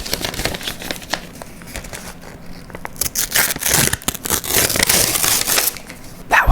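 A paper envelope is crumpled and torn up close, giving dense crinkling, crackling and ripping that gets louder toward the end, with no talking.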